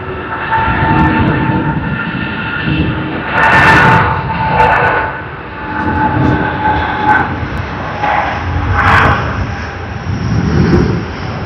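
Cebu Pacific airliner jet on its takeoff roll at Sydney Airport, a loud steady engine roar with surging swells, heard from nearby without talk.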